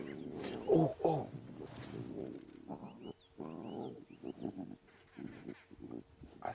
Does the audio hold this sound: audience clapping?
no